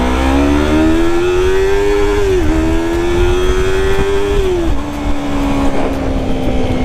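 A 2019 Yamaha R3 motorcycle accelerates hard in a straight line, its loud, close engine whine climbing in pitch through two quick gear changes before settling into a steady high drone.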